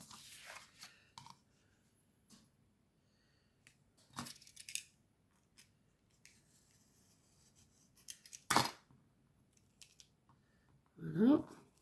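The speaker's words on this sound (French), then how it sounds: "je vais faire au ciseau" Scissors cutting paper for craft embellishments, with a few isolated close snips and rustles spread across a mostly quiet stretch, and a brief voice near the end.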